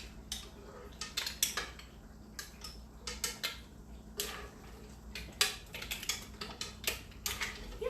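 Lobster tails, shrimp and mussels are being scooped out of a pan with utensils, giving repeated light metallic clinks and scrapes at an irregular rhythm over a low background hum.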